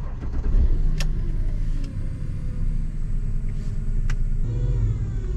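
A used car with about 85,000 miles starts and settles into a steady, close low engine rumble, broken by a few sharp ticks or clicks around the one-, two- and four-second marks. No one speaks.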